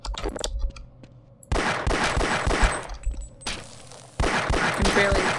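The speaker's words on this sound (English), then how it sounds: "where are you shooting me from?" Enemy gunfire in Half-Life comes in loud, close bursts of rapid shots separated by short quiet gaps, sharp and punchy with some thuds.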